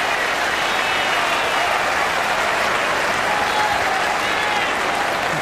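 Test cricket crowd in 1999 breaks into sustained applause after a boundary off Adam Gilchrist's bat against Pakistan, a dense, even roar of clapping throughout, with faint commentary mixed underneath.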